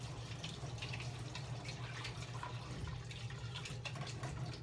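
Tap water runs steadily to rinse a funnel during darkroom processing of TMax 400 film, a faint, continuous splashing hiss with no breaks.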